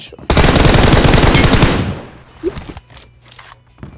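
Rapid automatic gunfire from a shooting video game bursts loud and dense for about a second and a half, then fades into scattered shots and faint clatter.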